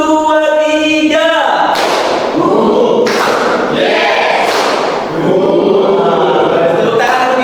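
A standing group of participants at a teacher-training session claps on a spoken count. Several loud, sharp bursts of group clapping are spaced a second or more apart, and a voice speaks between them.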